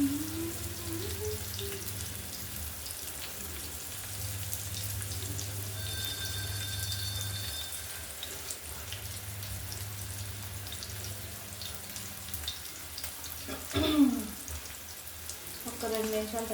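Tuna fish frying in a pan, a steady soft sizzle with occasional spatter and stirring clinks, fairly quiet throughout with a brief louder clatter near the end.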